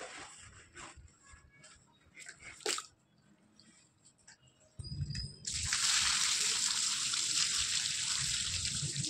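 Wheat grains being washed by hand in water at home, with splashing, swishing and pouring that builds into a loud, steady gush of running water in the second half, no voices.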